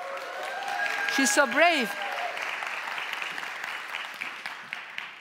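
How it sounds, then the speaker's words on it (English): Audience applause rises and holds as a steady wash of clapping at a talk, while someone speaks over it. "give her a round of applause"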